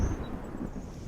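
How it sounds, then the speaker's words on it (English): A low, distant rumble of thunder rolls across the mountains in Skyrim, a short, soft, muffled boom alone in the open air. "The distant rumble of thunder rolling across the mountains."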